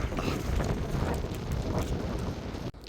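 Light sea wind buffets the microphone in a steady broadband rush on a fishing boat off Kuwait, continuous throughout with a brief dip near the end.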